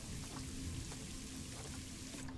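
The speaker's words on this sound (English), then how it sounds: "it's just raining way too much" Soft, steady rainfall in the Planet Zoo game, a quiet continuous patter of drops with occasional light splashes and no other sounds.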